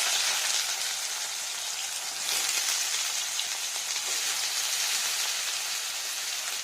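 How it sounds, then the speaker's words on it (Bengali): Sliced potato and ridge gourd frying in hot oil in a kadai, a steady, loud, rain-like hiss and sizzle running continuously with no talk. "এবার এখানে দিয়ে নেবো আলু আর ঝিঙ্গা এরকম ফালি ফালি করে কাট করা"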